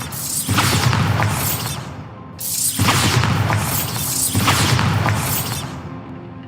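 Bombarda explosion spells in a Hogwarts video game go off three times in a regular rhythm, each a loud crashing blast with debris rattling and a bright whooshing tail.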